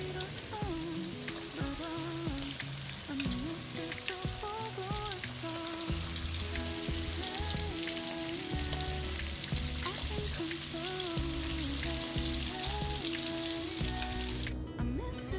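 Steady hiss and crackle of chicken pieces deep frying in hot oil for Korean fried chicken, continuous and close, with clinks and faint background music throughout.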